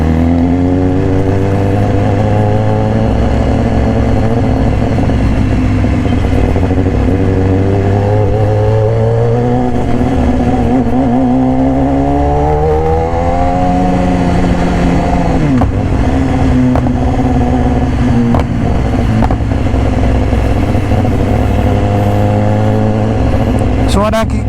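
A red 2018 BMW S1000RR with an Austin Racing exhaust revs loud and close. The engine note rises and falls through repeated throttle blips, with crackling exhaust pops, and a rider talks over it throughout.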